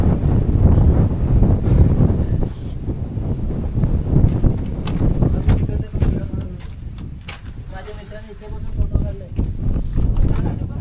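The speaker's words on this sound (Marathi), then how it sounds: "वारा खूप आहे." Heavy wind roars and buffets the microphone throughout atop Harihar fort in Maharashtra, a constant low rumble with gusts, while someone talks over it.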